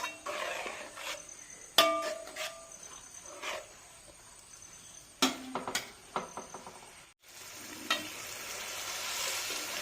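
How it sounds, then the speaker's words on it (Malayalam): Herbal hair oil in a pan on the stove comes to a boil, giving a steady close sizzle and crackle with scattered sharp clinks and pops, plus a brief stirring clatter. "തിളയ്ക്കാൻ തുടങ്ങിയിട്ടുണ്ട്."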